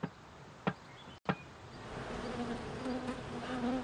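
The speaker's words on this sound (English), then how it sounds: "When the bees see the hive and smell the beeswax," Buzzing bees swarm close by a wooden hive smelling of beeswax, a droning hum building and thickening over a few seconds after a couple of sharp knocks.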